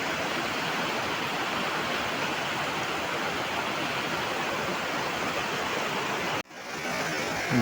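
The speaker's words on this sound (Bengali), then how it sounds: "জলের স্রোত আর গতিবেগ এতই তীব্র, পাথরের উপরে দাঁড়িয়ে থাকা খুব মুশকিল আছে" Fast river current in the Dooars during monsoon rushes over rocks, a loud, steady broadband roar of churning water close by, with a brief dropout near the end before the rush resumes.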